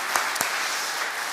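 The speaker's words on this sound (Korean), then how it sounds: "자, 이들을 우리 박수로 축복하겠습니다." A church congregation at a Friday prayer meeting claps steadily for a couple of seconds, a full even wash of applause with a couple of sharper claps near the start.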